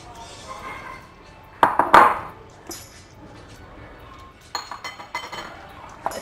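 Marinated chicken is stirred in a bowl, with sharp clinks and knocks of a utensil against the dish in two short clusters, louder in the first, between quiet stretches.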